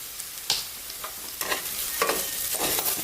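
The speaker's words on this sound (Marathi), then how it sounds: "अशा प्रकारे आपण हे सगळं साहित्य तेलामध्ये चांगलं परतून घेणार आहोत" Semolina sanja with turmeric, sugar and salt sautéing in oil in a pan, a steady close sizzle broken by several sharp scrapes and stirs of the spatula, with no voices.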